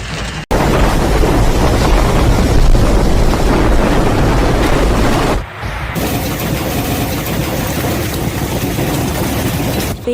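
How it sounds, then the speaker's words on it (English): A hailstorm with heavy rain in England makes a loud, close, dense clattering roar of hail and downpour, briefly cut off, then resuming steady. "England is facing hailstorms and heavy rain, accompanied by thunder"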